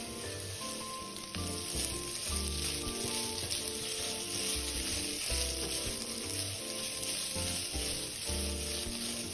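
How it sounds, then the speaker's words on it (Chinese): Drained glutinous rice stir-fries in a wok with a continuous, close sizzle and repeated scraping, stirring strokes throughout. "将沥后的糯米全部倒入，继续炒香，炒至米粒变得半透明"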